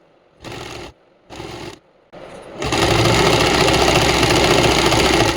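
Sewing machine stitching kurti fabric up close: two short bursts of running, a third start, then a long loud continuous whir of stitching.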